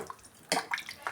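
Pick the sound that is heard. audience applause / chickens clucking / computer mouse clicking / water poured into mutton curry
water poured into mutton curry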